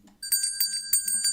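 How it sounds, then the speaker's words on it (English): A bright bell sound effect, played over a live stream, rings in a quick run of about six sharp metallic dings with a sustained high tone between them. "Here's the bell."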